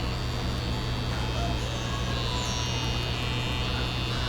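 A cheap tattoo pen with a Swiss motor runs continuously up close, giving off a steady, even electric buzz with a low mains-like hum and no pauses.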